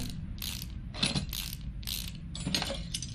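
A brake caliper being unbolted from a car in Car Mechanic Simulator, with about six rapid, crisp ratchet-wrench bursts in a steady rhythm, close and clear with no talking.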